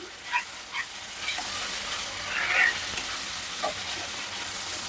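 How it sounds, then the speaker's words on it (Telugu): Onion, ginger and garlic paste frying for crab curry makes a constant soft hiss and sizzle in the pan, with a few light stirring taps, moderately quiet and with no talking. "నెక్స్ట్ ఈ పేస్ట్ చేసాను కదా, ఆనియన్, అల్లం వెల్లుల్లి ఇవి కూడా కొంచెం ఫ్రై అవ్వాలి."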